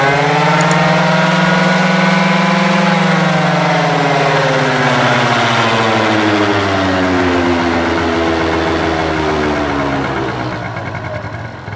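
A motorcycle engine idling close by, then revving so the pitch rises and falls in long sweeps, loud and steady before easing off at the end.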